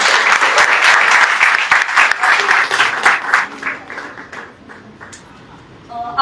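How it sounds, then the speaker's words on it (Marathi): Vigorous audience applause for a theatre troupe, loud and dense at first, then thinning into scattered claps and fading out toward the end. "त्यामुळे या सगळ्या टीमसाठी जोरदार टाळ्या झाल्या पाहिजे."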